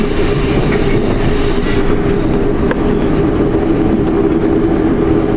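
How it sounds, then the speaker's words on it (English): Loud, steady rumble of a train hauled by three Class 47 locomotives rolling along the rails, with a constant low drone and faint clicks as it moves into a station platform. "We'll be coming into the station platform in just a moment"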